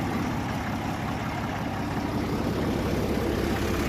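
A 1961 Case 930 diesel tractor idles steadily, its low, even rumble running unbroken from start to finish with no voices over it.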